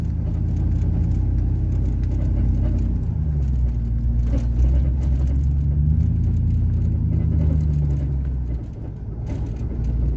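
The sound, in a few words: pickup truck driving on a dirt road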